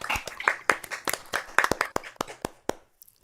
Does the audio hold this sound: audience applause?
yes